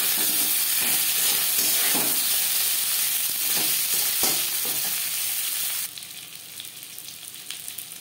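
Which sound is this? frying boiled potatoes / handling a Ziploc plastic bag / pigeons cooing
frying boiled potatoes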